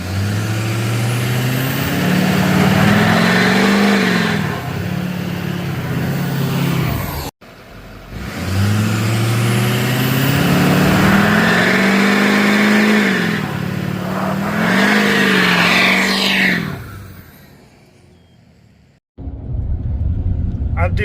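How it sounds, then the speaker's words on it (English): A stock Duramax diesel pickup truck revs hard for a burnout, two long loud rising engine pulls with deep rumble and roaring exhaust, close up, separated by a brief cut and ending in a drop-off. "I'm gonna see if it's gonna do a burnout."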